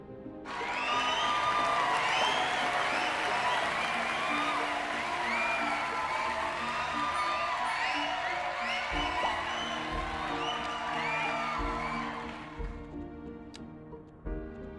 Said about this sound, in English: Yes, I have a button for applause.